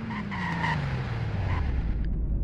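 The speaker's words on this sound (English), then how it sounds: "It takes a little while to brake, but that's not too bad." A car braking and skidding to a stop in the Roblox game Greenville, engine pitch sliding steadily downward under a brief squealing tone, loud and close, fading out at the end.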